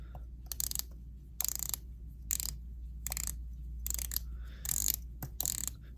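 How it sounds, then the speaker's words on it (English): Rotating dive watch bezels on a 41mm Tudor Black Bay and an Omega Seamaster 300M, quick bursts of fine ratcheting clicks in short runs separated by pauses, very close and quiet, with no speech. "let's take a look at the bezel action on both."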